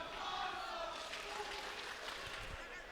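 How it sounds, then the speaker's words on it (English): A wrestling show crowd cheers and roars steadily at a distance, a dense wash of voices filling the whole stretch without pause. "The crowd definitely enjoyed that."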